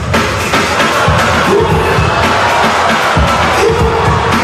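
A loud crowd roars and cheers continuously at the Red Bull BC One World Finals breakdance battle in New York City, dense and steady throughout with occasional sharper shouts.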